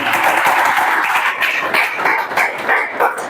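Students in a classroom clapping together in a dense, steady round of applause, fairly loud and close, lasting a few seconds.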